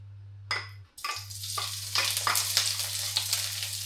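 Onion and pig's liver drop into a hot pan and start frying, a loud burst of sizzle after a brief quiet gap, then a steady crackling hiss with stirring scrapes and a low background hum.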